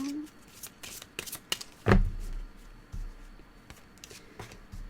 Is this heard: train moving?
no